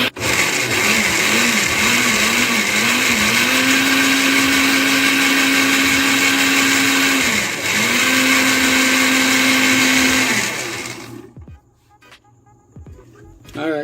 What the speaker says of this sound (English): that's the reason why we are using a blender